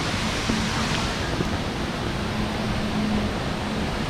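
Steady broadband rush of water at Sarika waterfall in Nakhon Nayok, a loud continuous roar with no break, heard from nearby without talk.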